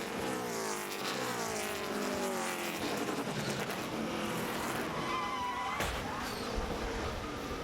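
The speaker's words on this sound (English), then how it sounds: "You could hear that wheel hop as he was coming down into turn 1. You hear the sort of the chattering, and he just backed it in the wall." A NASCAR stock car at Martinsville chatters with wheel hop braking into turn 1, a loud rattling engine and tire judder with squeal before a sharp impact as it backs into the wall.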